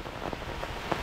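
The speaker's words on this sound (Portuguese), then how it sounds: "Calma, Hanna, é só chuva, Hanna." Brief patter of rain on a surface at a beach in Pipa, Brazil, soft and steady with a few scattered drops standing out.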